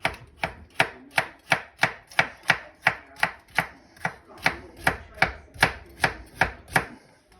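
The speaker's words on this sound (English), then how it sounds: "I'm just gonna slice it a bit, and we're gonna take this fine part off" A knife chops carrots on a cutting board in a steady run of sharp, evenly spaced thuds, roughly two strokes per second, loud and close with no talking.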